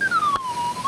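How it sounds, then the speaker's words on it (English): A small whistle from a free store gives one sustained, wavering tone that dips and rises in pitch for about a second, loud and close with no talking. "It's a whistle."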